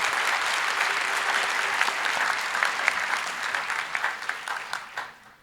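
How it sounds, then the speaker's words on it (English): An audience at an AAAI 2019 artificial intelligence debate applauds its panel with steady, dense clapping filling the hall, then thins into scattered individual claps before it dies away. No one speaks. "let's have a round of applause for our esteemed panel here"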